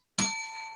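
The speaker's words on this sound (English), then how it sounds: "All right, I'm gonna ring the bell." A single bright bell struck once, a sharp close ding followed by a clear ringing tone that sustains and slowly fades.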